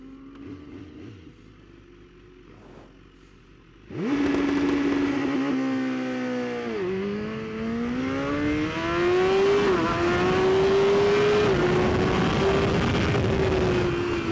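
A BMW race motorcycle idles quietly on a track, then fires off a launch-control start with a sudden loud roar that climbs in pitch through shifts and holds a close, screaming engine note.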